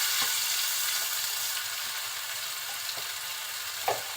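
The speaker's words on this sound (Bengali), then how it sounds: "পেঁয়াজের ভিতরে দিয়ে দিচ্ছি রসুন বাটা" Chopped onions and green chilli fry in hot oil with garlic paste, giving a steady, close, hissing sizzle with a few soft stirring knocks and no voices.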